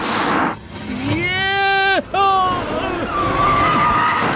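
A car is driven fast in a Bollywood romantic film scene, its tires squealing in a long rising skid with a sharp break midway, loud and close, with engine roar and voices around it.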